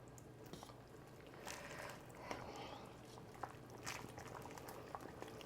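Broth simmering in a pot, a faint, continuous bubbling and gurgling with a soft low hum beneath it and no clear talking.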